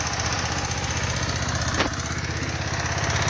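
A VST Shakthi 130 DI power tiller engine runs loud and close in a ploughed field, a continuous chugging drone with steady rhythmic pulsing and one brief sharp knock midway.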